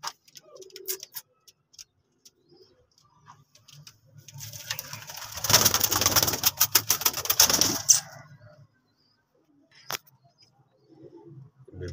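Baby pigeons make soft cooing and fluttering sounds close by, with a busier burst of rapid ticking, rustling calls in the middle and quieter scattered noises before and after.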